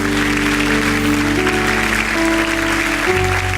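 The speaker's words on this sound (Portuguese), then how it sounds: "Vamos aplaudir a Jesus, que Ele merece." Church congregation claps for Jesus during worship, continuous applause over sustained loud keyboard or organ chords that shift near the end.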